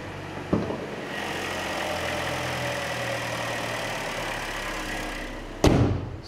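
A Chevrolet Sonic with aluminum alloy wheels idles at a steady, even hum with no voices, marked by two short thumps near the start and end.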